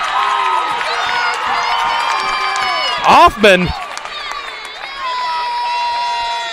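At a Valparaiso at Chesterton girls high school basketball game, the crowd cheers and applauds a charge call, with a couple of sharp loud bursts midway. A commentator talks over the noise.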